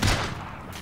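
A single sniper rifle shot in Call of Duty: Ghosts, a sharp, loud report opening the moment and then a short rumbling tail fading away.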